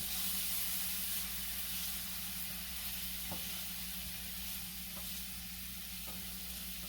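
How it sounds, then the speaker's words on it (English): Onions sweat in a pan for risotto, giving a soft, even sizzle and steamy hiss with a few faint clicks of stirring; the frying stays gentle and fairly quiet throughout. "We're going to get these onions cooked down."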